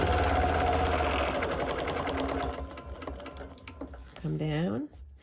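A sewing machine stitches around a quilt block, running in a fast steady whir for a few seconds, then slowing to short bursts and a brief squeal near the end, heard close with no talking.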